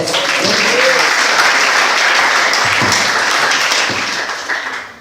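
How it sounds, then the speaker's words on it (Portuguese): A Portuguese-speaking church congregation gives a round of applause, loud dense clapping with faint voices mixed in, steady before fading out at the end. "Uma salva de palmas"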